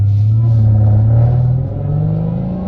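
A Hellcat's supercharged engine revving up with a steady rising drone and whine, loud and close, briefly dipping before climbing again.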